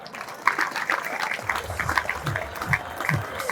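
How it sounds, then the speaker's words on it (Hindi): Audience at a school felicitation ceremony for JEE Main 2025 achievers in Rewari applauds, a steady rush of clapping with a low voice murmuring underneath partway through. "जोरदार तालियां।"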